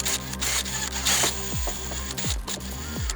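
Power drill boring through a metal bracket behind the loom while fitting a Lazer Lamps triple 9-inch Sentinel light kit on a 2023 Ford Raptor, a steady whirring buzz with a few brief descending pitch sweeps as the bit bites.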